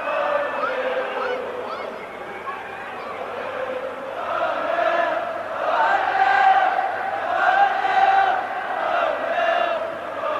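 A large stadium crowd at a 1983 Wales–Brazil friendly roars and chants in swelling waves after a Wales goal, loud and sustained throughout.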